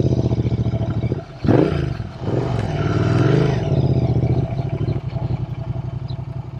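A custom Royal Enfield Interceptor 650 motorcycle thumps at a steady idle, then revs up with a rising and falling engine note as it pulls away. It is heard loud and close, with a pulsing exhaust rhythm.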